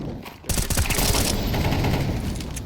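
Rapid automatic gunfire in the tactical shooter Counter-Strike, a loud, close rattle of repeated shots that follows a brief quiet moment and then blurs into a sustained noisy wash.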